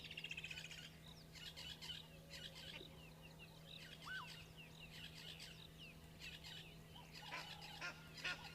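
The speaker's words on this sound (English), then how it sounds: "Our Egyptian geese saying good morning as always" Egyptian geese honk and cluck in scattered bursts at a faint, somewhat distant level over a steady low hum, with calls clustering into busier stretches now and then.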